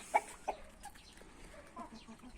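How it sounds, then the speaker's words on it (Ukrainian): Chickens cluck at midday while pecking at wheat grain: two short, fairly close clucks near the start, then softer scattered clucks and rustling over quiet farmyard background. "І курочки вирішили трошки щось перекусити."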